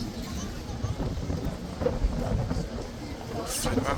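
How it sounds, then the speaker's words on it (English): Strong wind gusting outdoors at a Horse Guards sentry post in London, a steady broadband rush with buffeting microphone rumble throughout, under crowd murmur and occasional voices. "the wind's really picking up"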